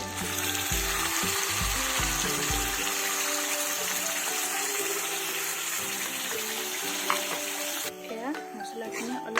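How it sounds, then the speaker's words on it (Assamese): Ground spice paste hisses and sizzles loudly in a hot pan for a vegetarian kabuli chickpea and paneer dish, with a voice talking over the frying at the start. "এয়া মছলাখিনি অলপমান ভাজি লৈছোঁ"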